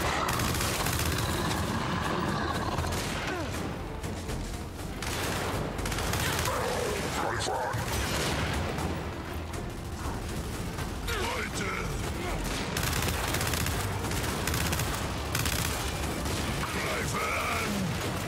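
Sustained weapon fire in the Gears 5 video game, dense rattling bursts and booms layered over a constant loud game mix with continuous mechanical clatter.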